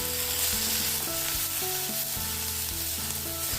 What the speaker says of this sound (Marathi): कांदा एक दोन मिनटे परतल्यावर घालूयात ओली मिरची तीही परतून घेऊयात